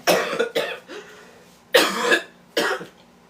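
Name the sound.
cough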